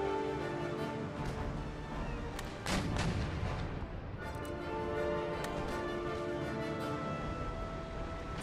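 Ship cannons fire round shot in the naval battle game Empire Total War, a dense roar of booming shots and rumbling blasts over a continuous loud battle din with a heavier volley midway.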